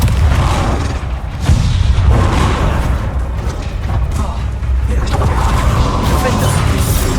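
Confringo fire spell blasts in the Hogwarts Legacy video game, heavy booming bursts and crashing impacts in a loud continuous combat din, with a voice calling out over it.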